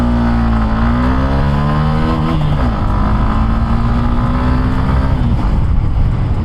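A Hero Xtreme 160 2V motorcycle launches hard, its loud, close engine climbing steadily in pitch, dipping briefly at a gear change, then rising again before easing off.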